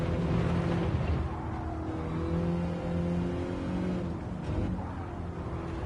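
A racing car braking downhill during a practice session, its engine a steady, close, droning growl that dips briefly near the end, with no voices.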